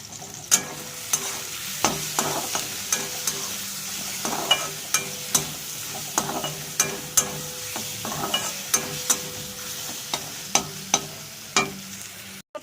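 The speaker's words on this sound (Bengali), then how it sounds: "একটু নাড়িয়ে চাড়িয়ে নিয়ে" Mango sour curry with turmeric and Kashmiri chili frying in a pan, a spoon repeatedly scraping and stirring in sharp regular strokes over a steady close sizzle.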